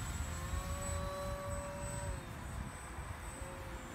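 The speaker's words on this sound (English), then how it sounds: "airplane's not flying too great because of the wind" A homemade twin-boom radio-controlled airplane flies in gusty wind, its small motor whining faintly at a distance over heavy wind noise, with a thin steady tone that shifts slightly midway.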